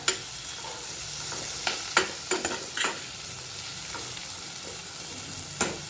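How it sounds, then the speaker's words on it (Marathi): Spice masala with chili powder is sautéed in a pan for shepu (dill) dal, a steady soft sizzle broken by several sharp scrapes and clinks of a spoon stirring against the metal, close and with no talk. "छान असं खमंग हे सगळा मसाला आपल्याला परतून घ्यायचा"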